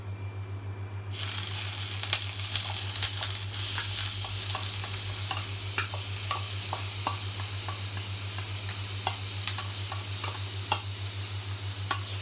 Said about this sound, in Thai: ผัดหมูก่อน